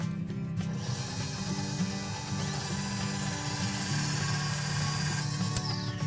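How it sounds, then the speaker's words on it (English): A handheld electric mixer whisks cream into whipped cream, starting on low and building speed; a steady mechanical whirring and rattling of beaters runs continuously and close, with no speech. "we are going to start whisking it on low, and then you slowly want to increase the intensity until it looks like whipped cream"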